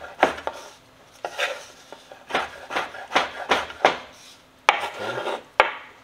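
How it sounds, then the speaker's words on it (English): Food, shrimp among it, chopped by knife on a cutting board, a quick irregular series of close, crisp knocks and scraping strokes with short pauses between bursts, no talk. "Get that all chopped up."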